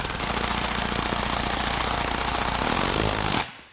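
A cordless right-angle impact wrench hammers a socket at higher power, a loud, dense rapid rattle that holds steady for over three seconds and then cuts off abruptly.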